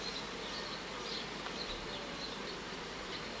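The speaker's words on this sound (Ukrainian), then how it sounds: "Бджоли відтягнули повністю вощину і почали тягнути полоски." Honeybees drawing out wax foundation on a hive frame during the honey flow make a steady, close, continuous buzz with no voices.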